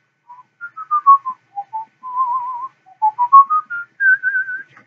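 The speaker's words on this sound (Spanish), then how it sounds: "a mí me gusta mucho chiflar" A person alone whistles a slow melody of a song in clear, close, breathy notes that slide between pitches, with short pauses between phrases and no background sound.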